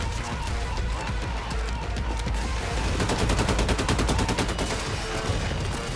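Dense automatic gunfire from the video game Wolfenstein II rattles nonstop and loud. Rapid bursts come close together and build into a fast machine-gun stutter partway through, all layered over game noise.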